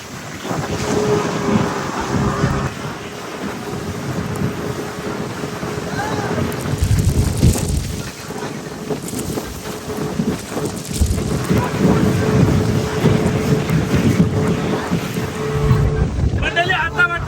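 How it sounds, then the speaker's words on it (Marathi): A speedboat races across the open sea near Coral Island, Thailand, giving a loud, continuous roar of engine, rushing water and wind buffeting the microphone throughout. "मंडळी आता वाटतं स्पीड बोटला बसल्या एवढी फास्ट आहे ना"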